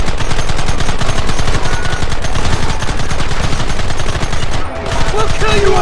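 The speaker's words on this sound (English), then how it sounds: "Fingers on the triggers, boys. Targets on the horizon. Fire at will!" Loud, sustained volley of rapid gunfire in the Red Dead Redemption video game, dense overlapping shots and bursts firing continuously like a fusillade, with a brief dip near the end before the shooting resumes.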